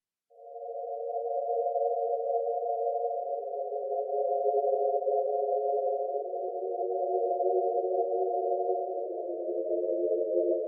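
Sustained R&B synth chords in FL Studio washed with Valhalla VintageVerb reverb on its default preset, with the mix at 30% and the decay reduced; soft, steady chord changes every few seconds, with no voices over them.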